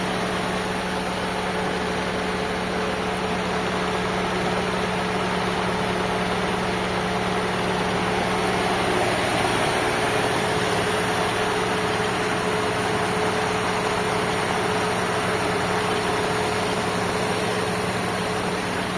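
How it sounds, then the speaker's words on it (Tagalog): A Mitsubishi Lancer engine idles steadily with a constant low hum and hiss of air conditioning, unchanging and close throughout. "makinig yung makina mga bossing."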